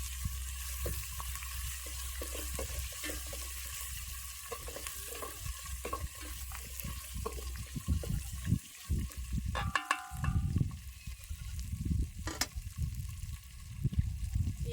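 Garlic and ginger paste fries in a pan for a mutton curry, a steady close sizzle with scraping stirs and occasional clinks of a spoon against metal, no talk.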